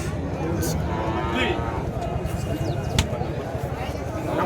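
Cattle and calves low at a busy livestock market, their moos rising over a dense crowd murmur while people talk nearby throughout.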